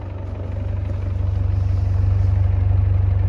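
A 1997 Land Rover Defender 90 with a 300Tdi diesel engine idles, recorded close at the exhaust: a steady low, quiet rumble with a fast even pulse, running smoothly and alone.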